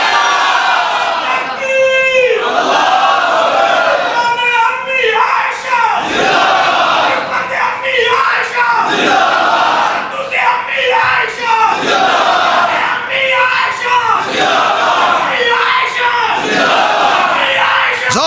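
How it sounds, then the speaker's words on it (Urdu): A large crowd at a religious sermon gathering in Pasrur chants a slogan in unison, loud rhythmic shouted bursts repeating every couple of seconds with a roaring, echoing crowd texture throughout. "امی عائشہ کا نعرہ لگا کے دیکھیے، چہرے پکار اٹھیں گے"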